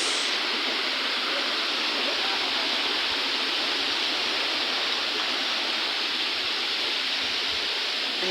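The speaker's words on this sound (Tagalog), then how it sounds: "Ayan ang aming malaking falls." The big Canonghan falls pours in a dense, continuous roar of rushing water, loud, steady and close, with no break.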